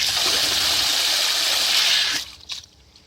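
Water gushing steadily from a household tap after a leak repair, a loud, close, continuous hiss that cuts off abruptly near the end, followed by a few faint drips and trickles.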